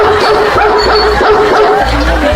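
A person imitates a dog barking, making a few loud, close, throaty bark-like yelps in quick succession.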